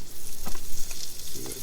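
Garlic mushrooms sizzle in butter in a pan at a windswept campsite, a steady close frying crackle with small spits and stirring scrapes throughout.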